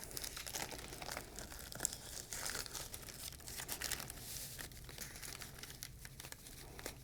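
A sterile urinary catheter kit wrapper being unfolded, producing quiet, close crinkling and crackling of the packaging in irregular bursts with brief louder rustles.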